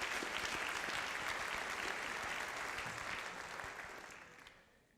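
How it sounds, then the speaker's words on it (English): Audience applause at a National Honor Society induction ceremony, a dense sustained clatter of many hands that holds steady and then tapers off toward the end. "if you could please join me in giving a round of applause for a distinguished and efficient ceremony to the officers tonight"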